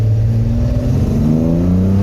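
Datsun L28 engine, freshly rebuilt, revving up to about 4,000 RPM while driving, a loud close drone rising steadily in pitch with no talk over it.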